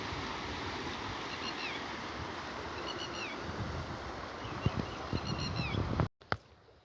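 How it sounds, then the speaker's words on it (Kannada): Water flows steadily at the Shivapura anicut, a dam on the Tunga, as a broad continuous rushing wash with a few faint bird chirps over it. The sound cuts off abruptly near the end. "ನೀವು ಸ್ವಲ್ಪ ನೀರು ಹರಿತಾ ಇದೆ ನೀವು ನೋಡ್ಬೋದು"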